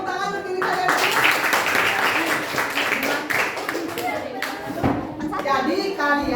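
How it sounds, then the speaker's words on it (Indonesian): A classroom of children claps for themselves during an Indonesian language lesson, a brief burst of scattered hand claps mixed with children's chatter and a teacher's voice. "Ya, tepuk tangan untuk diri kalian."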